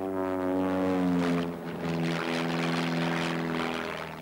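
Propeller aircraft engine droning steadily during a test flight in poor weather, a loud, close, continuous hum with a strong tonal buzz and a slight dip midway.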